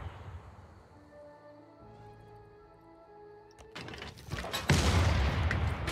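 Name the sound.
artillery unit firing in Civilization VI video game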